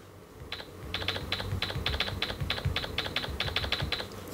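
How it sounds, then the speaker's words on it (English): Rapid key taps click in quick irregular bursts, a phone's Microsoft SwiftKey keyboard with a traditional typewriter-style sound profile, close and crisp over a faint background hum. "It sounds like a typewriter kind of."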